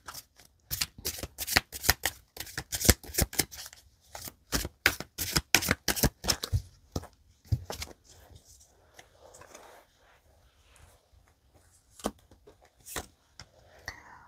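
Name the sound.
shuffling tarot cards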